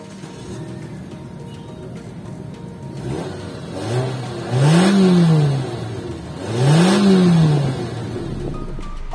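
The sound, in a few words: Nissan Grand Livina engine accelerating with Xtronic CVT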